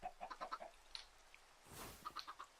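Chickens clucking in a farming video game, a few short soft clucks in quick bursts, then a brief rustle and more faint clucks, fairly quiet throughout.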